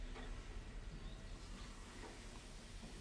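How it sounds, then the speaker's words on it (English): Train pulling in at a station in the Mashinky railway game, a faint steady rumble and hiss of rolling wagons with light clatter, distant and low. "Here comes our train in."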